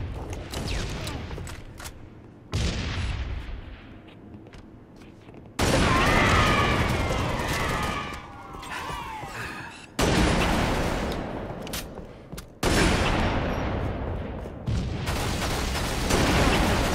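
Shotgun blasts and gunfire in a Halo free-for-all Slayer match on the Swordbase map, several loud separated booming shots with mechanical clatter and an announcer-style voice between them.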